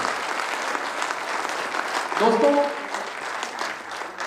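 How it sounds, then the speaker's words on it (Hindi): Loud audience applause at a large meeting, steady and dense clapping from many hands throughout, with a brief voice speaking over it midway. "एक जोरदार तालियों से अपने सभी लोगों का स्वागत करें"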